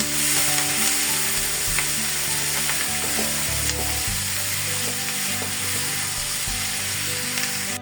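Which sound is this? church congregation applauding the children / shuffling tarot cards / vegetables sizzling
vegetables sizzling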